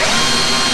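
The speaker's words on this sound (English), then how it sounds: "if you just countersink the hole" A drill countersinks a hole in brittle boat gel coat, producing a brief, loud, steady grinding whir with no pauses.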